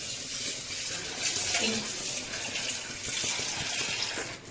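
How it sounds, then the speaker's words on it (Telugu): Water poured into a pot of Andhra-style sambar, a continuous splashing rush lasting several seconds, close and fairly loud, with a faint voice underneath. "సో నేను ఇంకొన్ని వాటర్ యాడ్ చేస్తాను"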